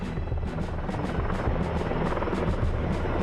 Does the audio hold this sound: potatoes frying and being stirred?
no